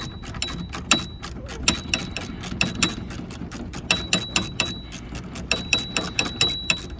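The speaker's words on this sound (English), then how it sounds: "So now I can just tighten these bolts." A ratchet tightens bolts on a Nissan Juke grill with rapid, close clicking in repeated bursts and short pauses between strokes, heard with no talk.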